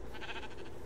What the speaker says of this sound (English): Who, the black sheep?